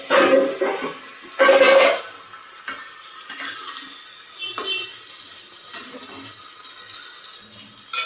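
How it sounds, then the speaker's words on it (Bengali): Water splashes into the bowl that held chhana in a home kitchen, in two loud rushing bursts at the start, then quieter clinks and faint trickling while cauliflower cooks. "এবারে আমি ওই ছানার বাটিটা ধুয়ে একটু জল দিয়ে দেব।"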